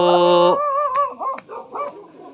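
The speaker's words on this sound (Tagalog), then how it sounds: "Aso." A dog's high, drawn-out whining yelp that breaks into a few short, wavering barks and whimpers, close and fairly loud.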